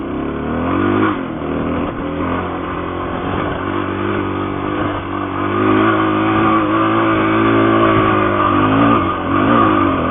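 A dual-sport motorcycle engine labors loudly and steadily as it climbs a steep dirt trail off the end of the pavement, its rumbling revs rising and falling close by for the whole stretch.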